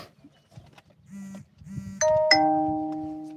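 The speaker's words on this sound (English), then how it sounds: "Ding dong." A doorbell rings with two clear chime tones, the second sustained and ringing out, after a stretch of faint indistinct sounds and light movement.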